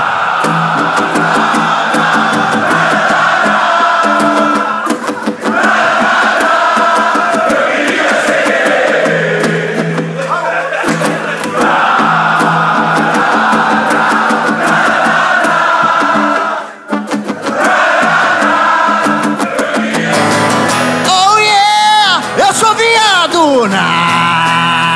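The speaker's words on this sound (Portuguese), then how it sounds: "Tira isso dos seus pulmões, grita, vai!" A live comedy audience screams and yells as loud as it can, a sustained roaring crowd noise that surges and holds for many seconds, with a brief dip before rising again.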